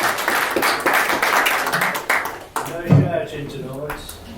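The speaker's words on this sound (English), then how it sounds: "let's give them a good round of applause to welcome them." Fans at a supporters' club forum give a round of applause, a burst of mixed clapping that fades after a couple of seconds as a voice starts talking.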